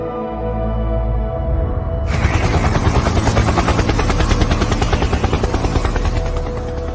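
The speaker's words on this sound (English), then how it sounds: "Quick, hop in the helicopter." A helicopter's rotor thumps in a fast, steady beat with a loud engine whine, building up after a brief lower rumble and staying close and strong.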